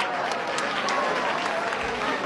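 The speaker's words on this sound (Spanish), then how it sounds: "Sí, aplaudan nomás." Applause from a crowd in a school setting, dense steady clapping at an even level throughout with faint voices mixed in.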